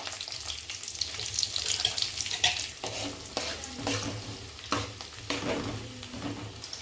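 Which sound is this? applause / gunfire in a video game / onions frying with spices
onions frying with spices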